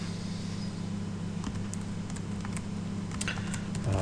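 Keys tap on a computer keyboard as Lisp code is typed in Emacs, a scattering of soft, irregular clicks in short bursts over a low steady hum, close and fairly quiet.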